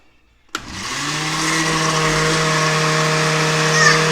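A blender kicks on abruptly and whirs steadily at high speed, mixing egg yolks with cayenne and onion powder for Texas-style eggs Benedict; the motor drone is loud, close and continuous with no talking.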